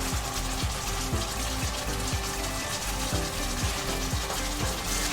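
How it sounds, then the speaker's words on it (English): Salmon fillets cooking skin side up in a bubbling glaze in a pan, with a steady wet sizzle and rapid popping bubbles throughout, fairly close and without talk. "I'm just going to add my salmon in there, and I'm going to add my salmon skin side up"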